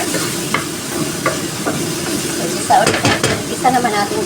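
Pork sautéing in a hot pan for a Filipino party dish, a steady close sizzle with scattered stirring scrapes and utensil knocks against the pan.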